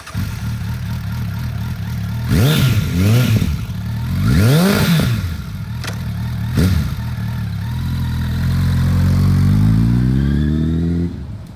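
A used 2001 Suzuki Bandit 1200 sport motorcycle engine runs close by, blipped through two sharp revs that rise and fall, then climbing steadily in a long rising rev near the end, loud with no talk.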